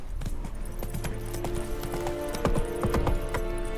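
Roach, the horse in Witcher 3: Wild Hunt, clip-clops along at a steady walking rhythm, the hoofbeats close and clear over game ambience with a faint snort.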